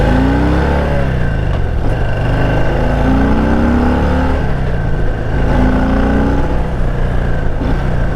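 A Harley-Davidson touring motorcycle accelerates hard, its loud, close engine note rising and falling through repeated gear pulls across the whole stretch, with no voices.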